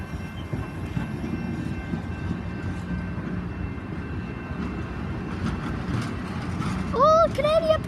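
A Canadian Pacific Christmas train rolls past in London, Ontario, a steady rumble of rail cars throughout, with a whistle-like tonal sound sounding twice near the end as people talk.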